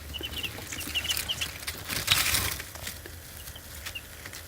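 Young chicks in a chick crate give faint, high peeping chirps, scattered in short runs over a soft rustle and low background noise.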